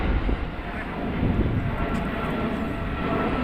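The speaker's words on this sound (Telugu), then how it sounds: "ఇంకో ఫ్లైట్ పోతుంది" An airplane roars overhead, a loud, broad continuous rumble that holds steady throughout without fading.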